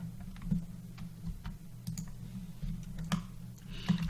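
A few sharp mouse clicks, spaced irregularly and fairly close, while working in SolidWorks on a sliding nut for a mortiser, over a low steady hum.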